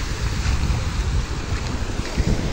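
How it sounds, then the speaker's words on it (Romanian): Rough sea waves and strong wind on the beach at Side in Turkey, a loud continuous roar of surf with heavy wind buffeting the microphone and no voices. "astăzi marea este puțin mai nervoasă decât de obicei"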